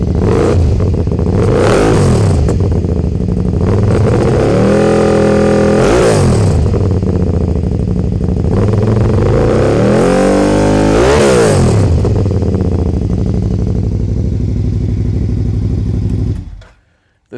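Close, loud V-twin engine rumble from a three-wheeler motorcycle at idle, with two throttle blips that rise and fall in pitch before the engine cuts off near the end; no talking.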